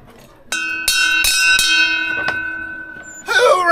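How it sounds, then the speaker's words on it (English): A bell rung several times in quick succession, each strike ringing with sustained tones that fade slowly, followed by a brief squeaky scrape near the end. "Who rang that bell?"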